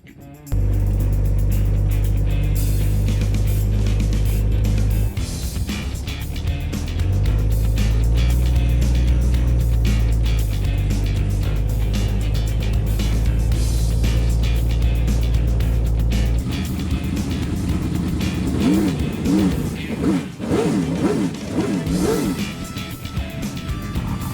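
A new race car engine fires up for the first time and settles into a loud, deep, steady run close by. Its tone shifts a few times before rising and falling revs near the end.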